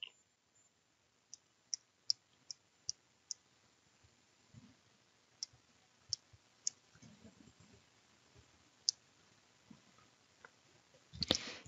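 Sparse, light clicks tap out one by one at an uneven pace, faint and close, with a brief louder rustle at the very end.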